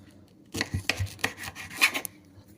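A knife cuts through ripe plantain in a kitchen, a short run of rasping, scraping strokes with a few sharper taps, close and fairly quiet, with no talking.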